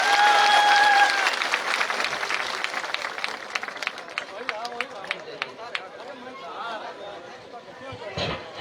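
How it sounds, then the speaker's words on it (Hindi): Crowd at a Nishad Party gathering in Amethi applauding in welcome of Dr. Sanjay Kumar Nishad, loud at first then thinning to scattered claps amid chatter. "मैं चाहूंगा बस जोरदार तालियों से स्वागत किया साथियों।"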